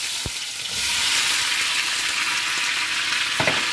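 Plum pieces drop into hot mustard oil in a kadai and sizzle loudly and steadily, with a couple of brief taps at the start and end.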